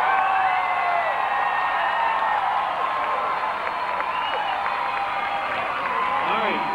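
Demolition derby spectators in Essex, Vermont, 1992, cheering, whistling and applauding for the green car number 85, a dense steady crowd roar with whoops and shouts rising through it from start to finish.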